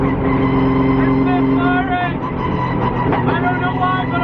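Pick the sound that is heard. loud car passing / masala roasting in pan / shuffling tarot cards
loud car passing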